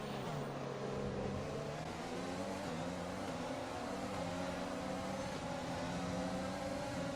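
Race cars in the F1 2020 video game launch off the Australian Grand Prix start as a loud, dense engine roar that climbs steadily in pitch, with several cars blending together.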